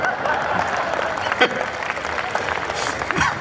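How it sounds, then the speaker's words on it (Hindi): An audience claps at a Hindi kavi sammelan poetry recital. The applause is steady and moderate throughout, with a brief louder burst midway. "तालियां कम बजा रहे हैं आप।"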